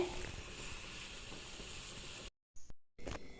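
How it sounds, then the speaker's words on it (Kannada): Horse gram rasam boils in a pot, a faint, steady bubbling hiss that cuts out abruptly near the end before brief returns. "ಸಾರು ಕುದೀತಾ ಇದೆ"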